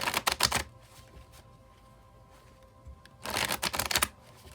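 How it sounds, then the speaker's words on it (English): A tarot card deck being shuffled in two close, crisp bursts of riffling separated by a quiet pause, with the second burst lasting about a second. "I'll shuffle till the deck feels ready"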